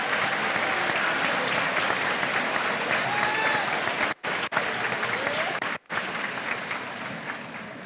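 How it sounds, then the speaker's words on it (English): A crowd at a 2018 eighth-grade graduation ceremony applauds the graduates with sustained, dense clapping, broken by two short gaps, with faint cheering voices mixed in. "So let's give a round of applause to our graduates."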